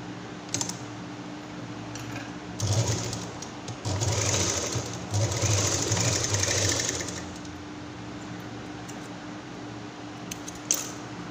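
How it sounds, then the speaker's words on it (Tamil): A home sewing machine stitches a small key chain purse in short bursts, whirring for a few seconds at a time between quieter pauses, close and fairly loud, with light handling clicks around the runs. "பிட் கிளாத் வச்சு ஸ்டிச்சஸ் போட்டு எடுத்துக்கலாம்"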